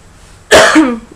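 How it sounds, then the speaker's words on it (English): A single loud, harsh cough bursts out close by after a moment of quiet, trailing off with a throaty rasp. "I've got a cough"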